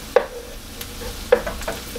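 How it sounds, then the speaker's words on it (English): Tomato paste being stirred into softened onions in a pan, with a few scraping spoon strokes over a faint sizzle, close and moderately loud. "now I'm going to go ahead and add in my tomato paste and get this all nice and combined"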